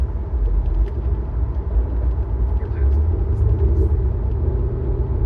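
Chevrolet Corvette C5 Z06 drives on a foggy night, its engine and road noise a steady low rumble heard from inside the car, with a person talking over it.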